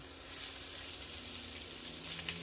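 Yakisoba stir fry sizzles steadily in a pan, a close, even crackling hiss with occasional small pops and no talking.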